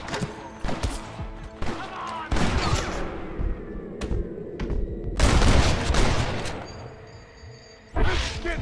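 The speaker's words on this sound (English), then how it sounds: "You man the Gatling gun, Marston!" Gatling gun fire in the western video game Red Dead Redemption, loud bursts of rapid gunfire with booms and whooshes, separated by brief gaps, with a voice talking in between.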